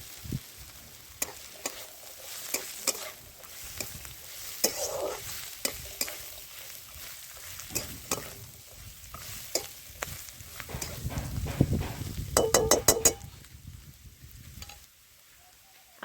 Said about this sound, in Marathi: आता हे वाटण पण छान असं परतून घेऊया.